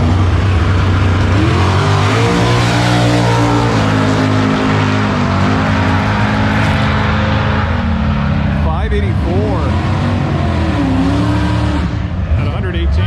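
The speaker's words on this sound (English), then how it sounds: "the Nitrous Nova is about to make a pass" A nitrous-fed Chevrolet Nova drag car roars loudly and continuously at the strip, its engine droning and revving throughout, with people talking over it.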